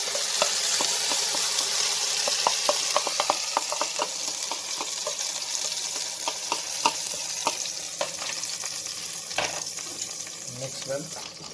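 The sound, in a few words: green chilli paste frying in melted ghee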